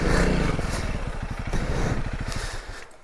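A 2022 Honda CRF300L motorcycle rides over rocky terrain, its engine thumping in a fast, pulsing rhythm under wind noise and scrapes, close and loud.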